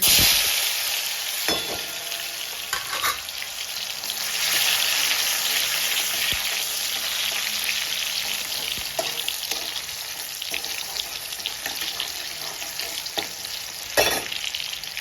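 Tomato dropped into a boiling pot of village-style brinjal curry and stirred: a dense, bubbling sizzle with intermittent scraping knocks of the spoon, close and steady, no talk.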